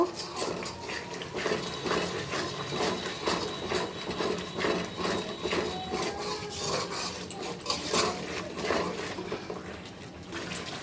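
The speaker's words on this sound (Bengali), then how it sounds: "মশলাটা কিন্তু বন্ধুরা আমি সুন্দর করে কষিয়ে নিব" Spice paste for a koi fish curry being stirred and fried in a pan, with steady scraping and clinking of a metal spoon against the pan and a soft sizzle underneath, continuous and close, with no one talking.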